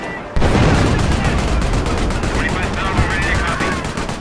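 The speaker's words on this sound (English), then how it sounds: "Howitzer number two in the traction. Get that second gun firing now!" A 25-pounder howitzer artillery gun firing in a war video game: a sudden loud blast opens into sustained rattling gunfire and explosions, dense and continuous throughout.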